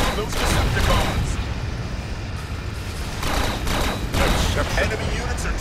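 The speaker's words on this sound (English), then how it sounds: "Open fire on those Decepticons!" Sustained gunfire rattles through a battle against Decepticons in the video game Transformers: Revenge of the Fallen, set in West Coast Downtown, with dense bursts and booms layered under voices.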